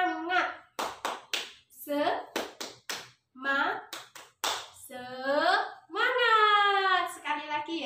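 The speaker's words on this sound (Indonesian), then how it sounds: "mari Ibu ajak untuk bertepuk-tepuk riang, bertepuk-tepuk gembira, bertepuk-tepuk semangat" Sharp hand claps come in short rhythmic bursts during a classroom clapping game, alternating with a chanting voice that leads the pattern.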